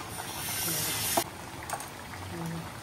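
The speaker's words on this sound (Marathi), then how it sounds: "मस्त भाजीला उकली आली आता आणि बटाटे शिजले पण" A pot of vegetable curry with potatoes and dried coconut boiling steadily, giving a dense continuous hiss and bubbling with a faint voice underneath.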